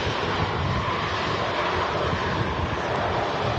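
TAP Airbus A320 arriving at Manchester Airport, a steady broadband jet roar with wind noise, constant and fairly loud throughout with no talking.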